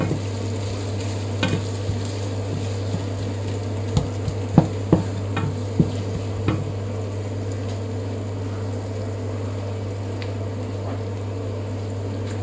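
Onion and garlic sautéing in a pan give a steady, close sizzle under a constant low hum, with scattered clicks and scrapes of stirring throughout; no one speaks.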